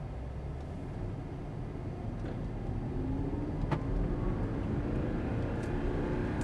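A black and red 2014 Audi R8 with a V8 pulls away in first gear, its steady low engine rumble growing gradually and evenly louder over several seconds, with no voices.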